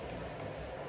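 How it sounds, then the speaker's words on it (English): Continuous spray bottle misting rose water and essential oils onto hair, a steady hissing spray lasting the full short moment, close and loud. "It's very convenient because you squeeze it and it just keeps spraying."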